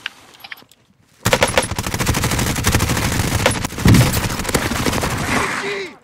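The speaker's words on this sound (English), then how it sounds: "They're firing rockets." Rockets and gunfire in PUBG, a quiet start giving way to a loud, sustained automatic-weapon barrage with a heavier blast partway through, close and continuous until it cuts off near the end.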